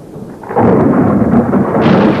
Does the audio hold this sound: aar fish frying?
no